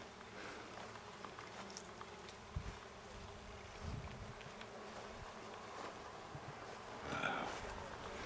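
Bees buzzing around apple blossoms, a soft continuous hum with occasional louder passes close by, faint and outdoors, with light background noise.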